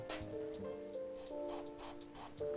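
Lubricant sprays into the bearing of a roller garage door track in several short, soft hissing bursts, faint and close, over a quiet background of steady tones.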